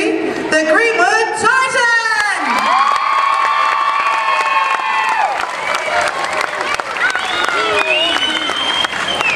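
A loud crowd at a cheerleading competition cheers, whoops and claps for a school team taking the floor, children shrieking over sustained applause while an announcer's amplified voice carries through.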